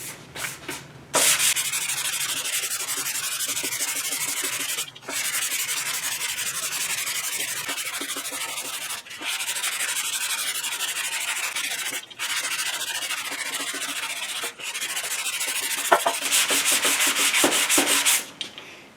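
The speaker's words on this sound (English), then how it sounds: "Now I'm not digging hard on this. I'm letting the sandpaper do the work." Hand sanding of gray primer on a 1969 Ford Mustang front fender, steady scratchy rubbing strokes in long continuous runs broken by brief pauses, close and fairly loud with no talking.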